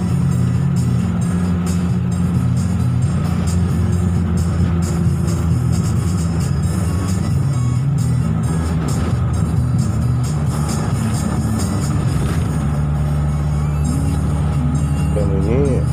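A car travels and accelerates along a road in Tanjungpinang and Bintan in the Riau Islands, giving a steady, loud engine and road rumble that continues throughout with no break.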